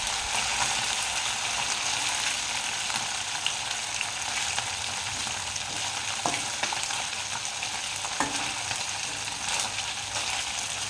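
Anchovies with curry leaves fry in a pan with a steady, dense sizzle throughout, broken by a few faint scrapes as the fish are turned, and no talking.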